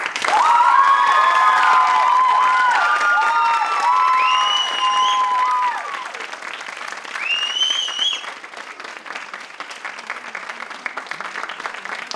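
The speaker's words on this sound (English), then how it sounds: "with your loudest round of applause" Loud audience applause fills a stage hall as a Bharatanatyam dancer is welcomed for her debut arangetram performance, with scattered cheers and shouts over the clapping before it gradually thins out.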